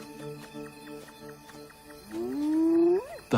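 A male lion roars at night, one drawn-out, rising call heard midway through over soft background music, fairly close and moderately loud.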